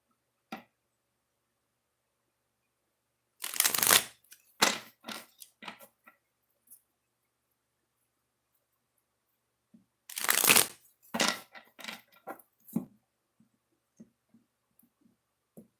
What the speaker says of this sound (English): Do 2 shuffles, okay?